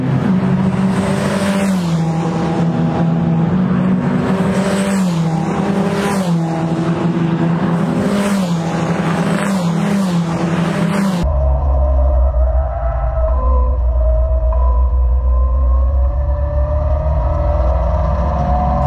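Race car engines roar loudly and continuously during a race, the pitch rising and falling through gear changes, then shifting abruptly to a lower, rumbling in-car drone.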